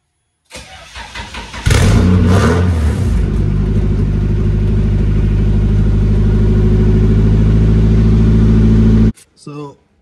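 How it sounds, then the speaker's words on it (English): A Nissan 240SX engine with an ISR aftermarket exhaust cranks, then fires up into a loud, deep rumbling idle with a throaty exhaust note that holds steady before cutting off. "I think I'll do a sound check right now, start the car up"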